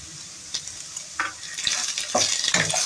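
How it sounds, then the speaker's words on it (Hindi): Four whole round chilies fry with softened, light golden onions in a pan. Separate spoon scrapes and stirring knocks give way to a louder, fuller sizzle, close and with no talking. "प्याज के साथ हम इनको फ्राई करेंगे अच्छी तरह से"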